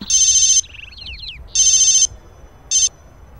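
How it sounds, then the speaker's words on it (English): A telephone rings in three bursts, two longer trills and a short third, loud and close, with a few brief chirping tones between the first two rings. "Gayatri, pick up the phone."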